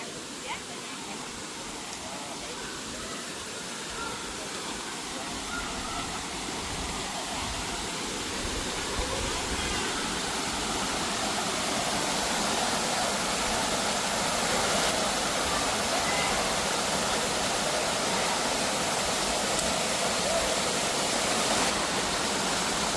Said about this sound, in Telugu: ఇక్కడ నుంచి ఆ వాటర్ ఫాల్స్ అక్కడికి వెళ్తూ ఉంటాయి చూడండి